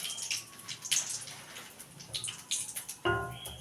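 Black cumin seeds sizzle and crackle in hot oil in a home kitchen, a fizzing, spattering hiss. After about three seconds a louder burst of frying follows as the lentil paste drops into the pan.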